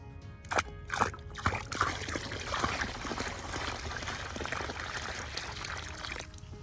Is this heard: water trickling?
yes